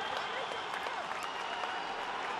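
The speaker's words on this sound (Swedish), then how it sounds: "De var få, men jublade desto mer." A small crowd of football fans at a Hammarby–Öster match cheers and claps steadily after a goal, a continuous mid-distance roar of applause and shouts with no pauses.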